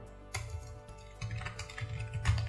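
Close computer-keyboard typing as button text is entered in a Mailchimp template, with quick bursts of key clicks separated by short pauses.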